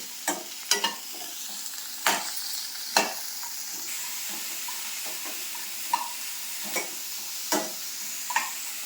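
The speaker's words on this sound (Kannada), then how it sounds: "ಸಂದು ಬಳ್ಳಿಯ ಎಲೆ, ಇಷ್ಟು ಬೆಳ್ಳುಳ್ಳಿ, ಆಮೇಲೆ ಈರುಳ್ಳಿ ಅನ್ಸ ಸೇರಿಸ್ಕೊಳ್ತಾ ಇದ್ದೇವೆ. ಇನ್ನೊಂದು ಸ್ವಲ್ಪ ಇದೀಗ ಫ್ರೈ ಆಗಲಿ ಹೀಗೆ" Sandu balli leaves, garlic and onion frying in a pan, a steady hissing sizzle with intermittent scrapes and taps of a stirring spoon, close and moderately quiet.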